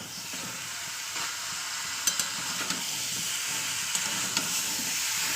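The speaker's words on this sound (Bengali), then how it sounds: "আমার গ্যাসটা কিন্তু জোরেই আছে আমি কিন্তু গ্যাস আসতে দিইনি এখন আর কারণ চিকেনের সঙ্গে আবার মশলাটা পুরো ভালোভাবে কষে যাবে" Chicken with spice masala fries on a high gas flame in a pan, giving a constant close hiss and sizzle with a few sharp clicks from stirring.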